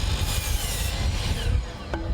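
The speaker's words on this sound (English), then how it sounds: "The buzz of a table saw." A table saw buzzes steadily in a classroom workshop, a dense, continuous whir of a blade cutting wood, close and fairly loud, with no one speaking.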